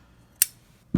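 Scissors snipping crochet yarn, two quick sharp cuts about half a second apart, close and crisp in a quiet room.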